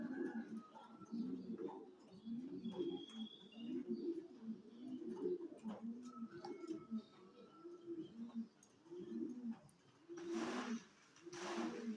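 Domestic pigeons coo repeatedly and closely in a steady rhythmic series, soft low calls continuing throughout, with a short rustling burst near the end.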